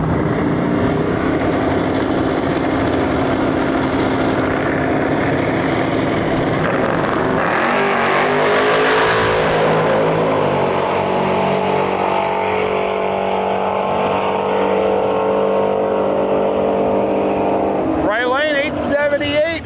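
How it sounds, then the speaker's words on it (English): A split-bumper Camaro drag races down the far side of a strip at Gainesville Raceway. Its loud, sustained engine roar shifts pitch partway through and carries on under a voice talking over it. "we got another split bumper Camaro, far side of the track"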